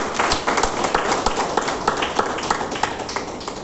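A seminar audience in Bhagalpur gives steady, dense applause, many hands clapping together nearby in a loud, continuous patter.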